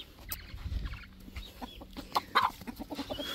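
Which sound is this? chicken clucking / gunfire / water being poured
chicken clucking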